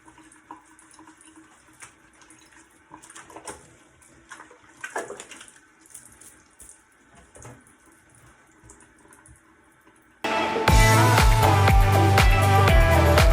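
Water runs into a hand while shaving cream is lathered, soft splashing and rubbing bursts at close range, then a loud burst of music cuts in near the end.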